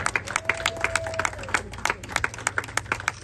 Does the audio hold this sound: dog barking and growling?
no